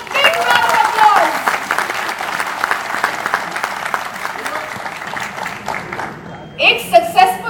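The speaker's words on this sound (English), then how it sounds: "Give yourself a big round of applause" An audience at a Jeunesse India business event in Delhi gives a big round of applause, dense clapping and cheers that fade, then a voice speaks over the tail at the end.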